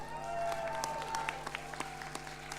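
Brief burst of audience applause at a youth poetry slam, scattered claps rising then thinning out over a steady background hum.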